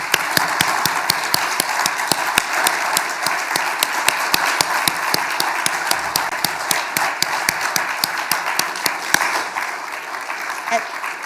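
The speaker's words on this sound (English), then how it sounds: "Applause for them." An audience at the 2021 New South Wales Australian of the Year Awards ceremony applauds. A continuous bed of clapping is punctuated by sharp, loud individual claps for about eleven seconds and tapers off at the end.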